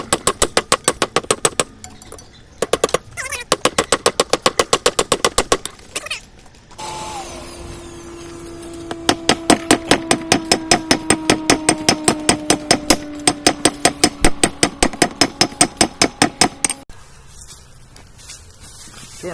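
Hot steel hammered on an anvil while tapering a piece for a forged ram's head, with fast, loud, evenly spaced ringing blows in long runs broken by short pauses and a low steady hum running underneath.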